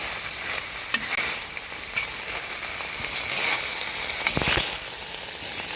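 Pork with shrimp paste sizzles steadily in a pan while being stir-fried, with scraping and tossing of a utensil breaking through the constant frying hiss.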